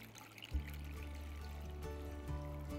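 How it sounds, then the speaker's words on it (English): Water is poured steadily into a pan of softened onions while rava upma is being cooked, a soft continuous trickle heard close up with no talk over it. "I am going to add water."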